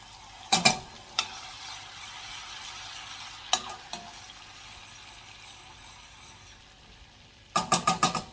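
A regular eating spoon stirs lemon barbecue chicken in a pan off the heat, with a soft sizzle underneath and a few clinking scrapes, one early cluster, two mid, and a rapid run of four at the end.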